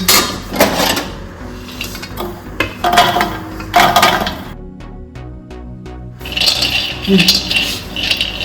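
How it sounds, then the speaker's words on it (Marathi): Roasted cashews poured out of a pan while making pudachi karanji filling, a quick burst of clattering, rattling nuts against metal, close and fairly loud, with pan scrapes before and after and no talking. "आता आपण काजू काजू पटकन भाजून घेतात आपण काजू आता थोडस भाजून निघालं आपण ओतून घेऊ"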